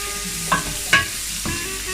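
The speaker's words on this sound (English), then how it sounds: "We'll fry first the onions. It'll take a while because onions need to be fried good." Onions frying in a pan for a chicken basquaise, a continuous close sizzle broken by a couple of sharp clinks and a scrape from stirring, no voices.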